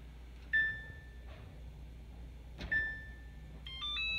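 An electronic oven timer beeps in short, thin tones at intervals, followed by a brief burst of quicker beeps, in a quiet kitchen after the oven display has been replaced.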